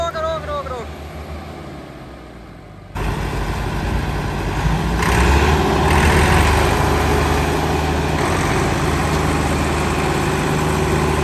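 A Massey Ferguson MF385 4x4 tractor, used for pulling sugarcane, idles with a steady, loud, low engine drone that grows slightly fuller partway through. A brief voice is heard near the start.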